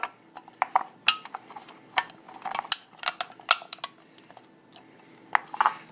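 Thin tin can metal being folded and crimped over by hand while making a wax burner, giving a run of sharp, close metallic clicks and crinkles in irregular bursts, with no talking.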